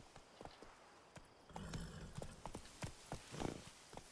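Rhythmic clip-clop of horse hooves at a steady trot in the video game The Witcher 3: Blood and Wine, crisp and close, with no talking.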